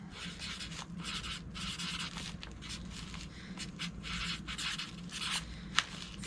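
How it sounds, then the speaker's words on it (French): A pen scratches and rubs across paper in short repeated strokes as a code word is written by hand at a diamond painting table, close and quiet, with a faint steady hum beneath. "je vais me l'écrire ici, là."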